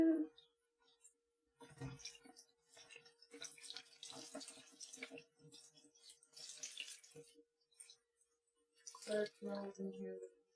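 Hydro-dipped leather rinsed under a running tap, water splashing and trickling in irregular bursts with drips between, close and quiet, while people talk in the background.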